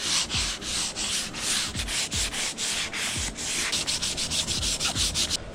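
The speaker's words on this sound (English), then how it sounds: "I'm just gonna start off with some 400 and do some light sanding." A car body's panel edges on a Mustang are hand sanded with 400 grit sandpaper, with rapid repeated back-and-forth rasping strokes close up in a steady rhythm and no talking.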